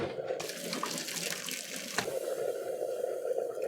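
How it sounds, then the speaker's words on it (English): Fresh water is poured into a cooking pot for boiling saltfish, with a steady, close, splashing rush that continues throughout. "So adding our fresh water now for another 10 minutes."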